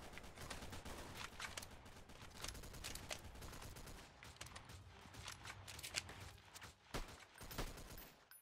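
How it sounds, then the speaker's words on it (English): Gunfire rattles in the video game Freeman: Guerrilla Warfare, dense bursts of rapid shots and fusillades, some sharp and close, others distant, running almost continuously without pause and without speech. "Getting shot at."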